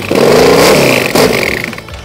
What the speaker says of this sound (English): So that's what the motorcycle sounds like.